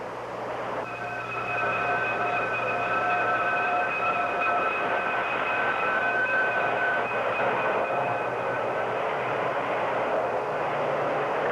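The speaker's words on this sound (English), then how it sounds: "another Union Pacific train pulls alongside, followed by another diesel from Chicago." A Union Pacific diesel train rumbles past nearby, its engine droning with a steady high whine over continuous rolling noise.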